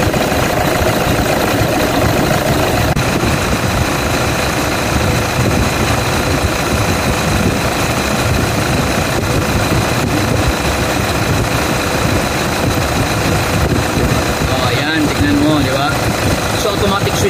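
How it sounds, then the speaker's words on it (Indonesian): A Toyota D4D 1KD/2KD diesel engine idles with the aircon compressor's magnetic clutch spinning, a loud, close, continuous rumble with a steady mechanical clatter, and a voice seems to talk over it. "So, sasabay pa yung ikot ng magnetic clutch na yan."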